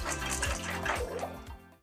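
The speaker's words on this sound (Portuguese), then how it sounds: "então agora vamos drenar a água" Rinse water drains off washed mopane caterpillars, a steady close rushing and splashing flow that tapers off and stops near the end, no talking.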